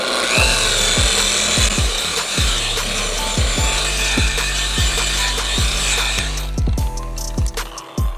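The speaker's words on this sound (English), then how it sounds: "the machine that I am using is made to actually mimic hand motion, random orbital" A random orbital polisher working the paint of a Jaguar XJR 100 X308: a steady low motor drone close by, with rhythmic rubbing sweeps roughly every half second, and no speech.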